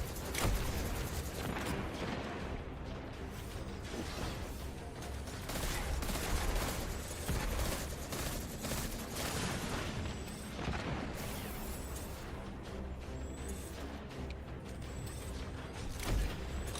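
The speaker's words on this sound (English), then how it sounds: "somebody's sniper shooting at me, bro" Gunfire in the online shooter Destiny 2, including sniper shots, sounds as dense, loud, continuous bursts and booms mixed with mechanical clatter through the whole stretch.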